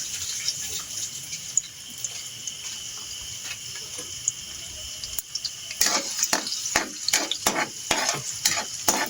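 Chopped garlic is dropped into hot chili oil and stirred, giving a faint steady sizzle that turns to a burst of scraping and stirring clatter close by in the last few seconds.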